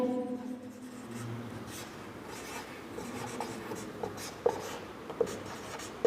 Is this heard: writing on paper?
yes